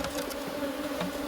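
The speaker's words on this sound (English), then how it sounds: "this is what it's like working bees on the aloes" Honey bees work on flowering aloes, a dense close buzz with a steady drone and individual bees passing near.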